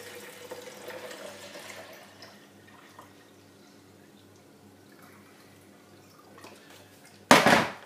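Water from a tap trickles and runs faintly into a container being refilled for washing Dead Sea Ormus, a low steady flow with a sudden louder splash near the end.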